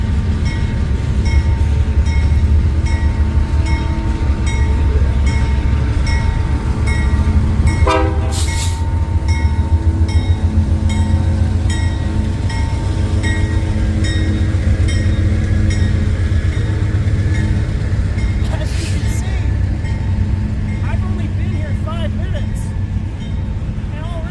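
A freshly painted locomotive rumbles steadily past in a town centre, with a loud horn blast partway through and a second one later, while people talk over the continuous roar.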